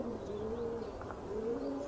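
Domestic pigeons cooing at a dovecote, soft low rolling coos repeating in a couple of phrases, faint and a little distant, with no voices.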